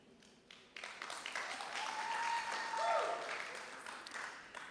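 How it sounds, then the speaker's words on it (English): An audience at a literary event in the Kenya National Theatre breaks into applause that quickly swells and holds, a few whoops and cries rising above the clapping. "You can clap wildly when you hear the word legacy"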